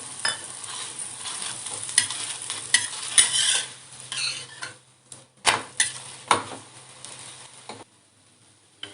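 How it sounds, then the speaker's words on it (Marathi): A paratha roasting in oil on a pan, heard as a light, crackling sizzle with intermittent scraping and clinking of a spatula, growing sparse and fading toward quiet at the end. "दुसरी बाजूही आपल्याला त्याच पद्धतीने शेकून घ्यायची आहे"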